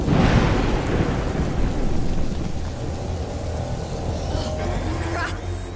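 Thunderstorm in the video game A Plague Tale: Innocence, with a loud rumbling thunder crack at the start that fades into steady rain noise and a low, continuous storm roar.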